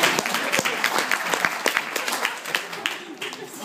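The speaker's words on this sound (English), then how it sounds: "Round of applause to the girl that" A short burst of audience applause for a young woman, moderately loud clapping from a small crowd that lasts a few seconds and thins out toward the end.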